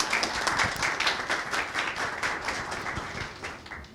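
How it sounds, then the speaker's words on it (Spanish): A crowd applauds continuously, a dense patter of many hands clapping at a steady level that slowly tapers off. "Un fuerte aplauso para la profesora."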